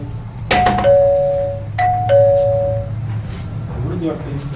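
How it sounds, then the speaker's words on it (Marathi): A two-tone doorbell chimes twice, close and clear, with neighbours chatting in the background. "बेल वाजा ना बेल"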